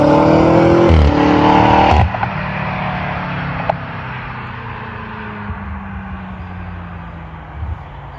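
A BMW car drives along at a King's Day street event, its engine loud and close at first with rising tones, then dropping away to a fading rumble over background noise.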